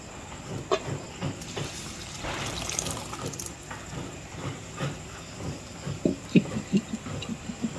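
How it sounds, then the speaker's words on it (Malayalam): Tamarind water splashes and sizzles into a hot frying pan for ginger curry, a steady hiss with scattered crackles and a few louder bubbling pops near the end. "നേരത്തെ നമ്മൾ വറ്റിക്കാനായിട്ട് കുറുകാനായിട്ട് വെച്ചിട്ടുണ്ടായിരുന്ന പുളി വെള്ളമാണ് ഇപ്പോൾ അതിലേക്ക് ഒഴിച്ചത്"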